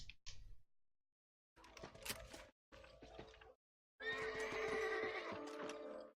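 In the video game Red Dead Redemption, a horse gives several whinnies and snorts in separate bursts with short silent gaps, ending in a longer loud neigh, close by.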